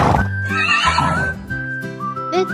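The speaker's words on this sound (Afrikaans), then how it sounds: "Dit is 'n perd." A horse gives a loud, close whinny that rises and trails off into shaky, fluttering neighs.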